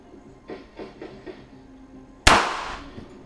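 A single loud, sharp gunshot during backyard target practice at roughly 55 yards, preceded by a few faint clicks and fading into a brief ringing decay.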